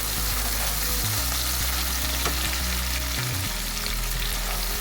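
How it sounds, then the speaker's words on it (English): Seasonings for ackee and saltfish sautéing in a frying pan give a constant close sizzle, with a low hum beneath and occasional stirring scrapes. "natural seasonings in the frying pan to be sauteed. You have to keep stirring it so that the seasonings won't burn."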